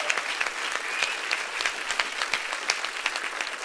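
Television music show audience applauding, a dense, steady wash of clapping hands from a large crowd, loud and continuous throughout.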